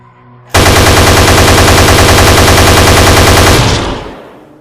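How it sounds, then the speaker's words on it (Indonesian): A sustained burst of rapid automatic gunfire rings out in a school play execution scene, very loud and continuous for about three seconds before trailing off into a decaying echo. "Giyadi, tembak."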